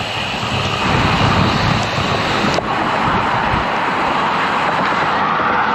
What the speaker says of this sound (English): Wind is pushing her water around on Lake Houston